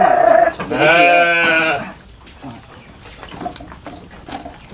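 A Garut sheep at a livestock seller gives a loud, drawn-out bleat up close, then the pen goes quiet apart from faint background shuffling and distant voices.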